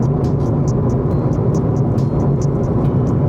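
Constant low rumble and hum of road noise from inside a moving car, steady and fairly loud, with faint ticking on top and no speech.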